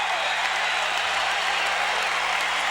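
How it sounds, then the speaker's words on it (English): A basketball arena crowd roars and applauds continuously as Orlando Magic call a late fourth-quarter timeout against the Pistons, a dense, steady wash of cheering and clapping. "Listen to the crowd as the Magic call timeout."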